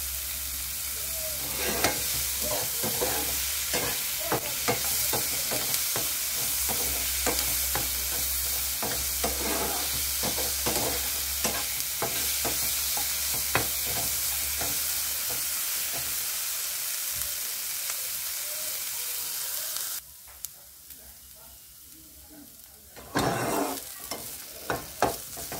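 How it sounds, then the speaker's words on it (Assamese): Jatilao seeds stir-fried over a low flame for a chutney, with a steady soft sizzle and frequent scraping stirs throughout, a low hum underneath, and a quieter stretch near the end broken by a few clatters. "লো ফ্লেমত এইখিনি ভাজি থাকিব লাগিব জাতিলাৰ গুটি কেইটা যাতে সিজি যায়"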